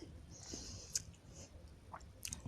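Close, wet chewing of food in someone's mouth, soft squishy bites and small clicks spread irregularly over a quiet room.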